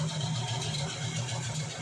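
Electric lab mixer stirrer, adjustable up to 500 RPM, runs with a steady low motor hum, close and fairly quiet, without talk.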